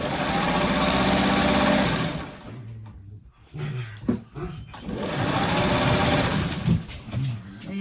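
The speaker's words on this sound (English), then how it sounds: "I might just take two pieces like this and sew these two together." Sewing machine stitching two fabric quilt pieces together, a loud steady mechanical whir in two long runs with a brief pause and handling noises between them.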